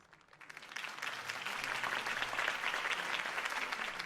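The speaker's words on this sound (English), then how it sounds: "could have heard that applause" Applause from a video game swells in from quiet and builds quickly into steady, dense clapping from a crowd, continuing strongly to the end.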